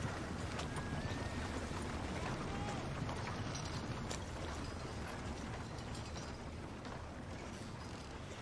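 Horse hooves clip-clopping at a gallop in Red Dead Redemption 2, a steady dense rhythm under constant loud ambience and game sounds, with no clear break through the whole stretch.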